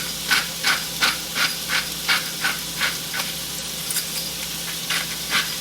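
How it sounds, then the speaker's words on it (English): Chopped onions with a pinch of salt sizzle in olive oil in a pan, a close, bright hiss that swells in regular pulses as they are stirred, with no voices. "I'm going to add about half of these onions right to my pan, as well as a little bit of salt."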